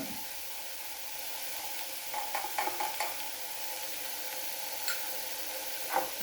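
Quiet, steady sizzling from a small pan frying with oil and salt, joined near the end by a few soft scraping clicks of stirring.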